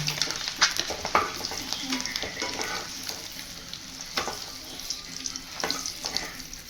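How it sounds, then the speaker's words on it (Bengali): Eggs crackle and sizzle in hot mustard oil, with occasional sharp clinks and scrapes from a utensil over the constant frying hiss. "এবার আমি ডিমগুলো ছেড়ে দেবো।"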